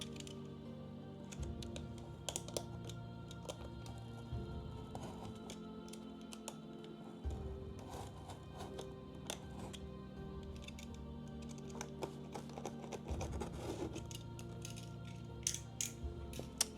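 Cardboard box packaging being cut open for a delivered F1 steering wheel, with close scattered clicks, scrapes and tearing ticks over a steady low background hum, no talking.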